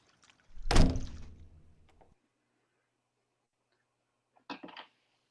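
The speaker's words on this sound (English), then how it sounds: "hold on, I'm gonna get the door." A door thuds and rattles as it opens nearby, followed by a brief pause and then a second, quieter clatter of handling.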